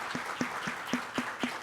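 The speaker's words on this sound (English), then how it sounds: "please give a round of applause for my cohort on stage today" A conference audience applauds speakers on stage, with steady, rhythmic claps recurring about every quarter second and a continuous background of mixed clapping, moderately loud and without talk.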